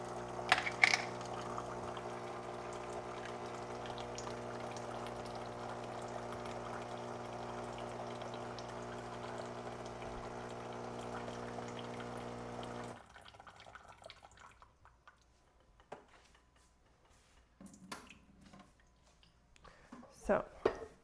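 Hot water being poured in a kitchen while preparing gluten-free freezer meals. A steady, fairly quiet pouring stream runs for several seconds, then stops, leaving faint drips and light clinks of kitchenware.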